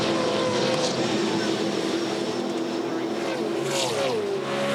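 V8 Supercars roaring through turn 2 at the Ipswich circuit during a 2014 Dunlop series race, a loud continuous engine drone with pitch shifts as cars pass, under a commentator's voice.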